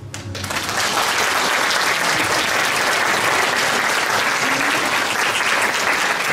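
Loud, sustained audience applause fills a hall at a florist flower-arrangement competition, rising quickly after a brief start and holding steady as a dense wash of many clapping hands.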